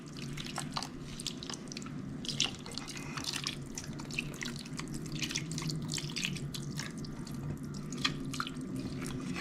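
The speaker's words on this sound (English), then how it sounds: "And then finally we're gonna add some more beef broth." Beef broth trickles and drips into a pressure cooker holding oxtails for a Jamaican dish, a soft, steady liquid patter with small splashes, fairly faint and close throughout.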